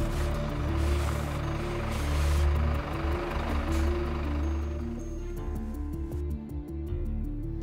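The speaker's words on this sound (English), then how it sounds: "Now let's consider stopping a fully laden truck." A fully laden heavy truck brakes to a stop, its low engine and road rumble steady and close before easing off, with a faint hiss and ticking as it settles near the end.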